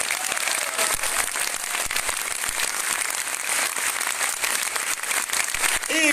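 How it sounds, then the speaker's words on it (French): Loud, steady applause from a large crowd at a military tattoo in Arras, dense clapping that fills the whole stretch without pause. "Un très grand applaudissement pour le Metro Marching Band de Scheveningen."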